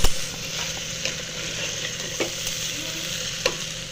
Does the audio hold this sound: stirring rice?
yes